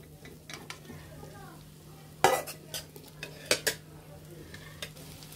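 Vegetables go into a pot of ginger khichuri and get stirred, with a soft sizzle under scattered spoon scrapes and clinks against the pot, heard close and fairly quiet.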